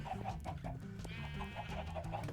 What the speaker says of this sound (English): And this is where we want to have our chickens.